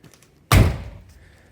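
The door of a 1972 Saab 96 V4 slams shut with a single loud, close, solid thud that rings briefly and fades, with no voices.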